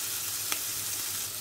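Onion and thyme fry in a pan with a soft, even sizzle throughout, quiet and close, broken by one brief click of a utensil partway through, with no voices.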